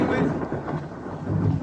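Rumbling thunder rolls beneath steady rainfall, a broad loud wash with no clear breaks.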